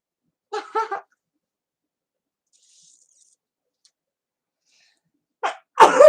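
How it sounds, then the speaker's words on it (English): A short nasal build-up followed a few seconds later by a sharp, close sneeze, with near silence in between. "Oh, I'm going to sneeze."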